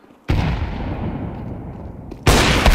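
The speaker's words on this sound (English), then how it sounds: "Grenade out." A grenade goes off in CS2 on the Dust II map: a sharp, loud blast followed by a decaying rumble, then a second abrupt burst near the end.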